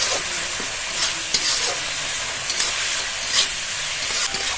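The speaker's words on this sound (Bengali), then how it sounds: "এই মশলাটা খুব ভালো করে কষিয়ে নিয়েছি 4-5 মিনিট ধরে।" Spice paste of turmeric, salt and chilli powder sizzles steadily in oil as it is stirred, with a continuous hiss broken by periodic scraping bursts and no speech.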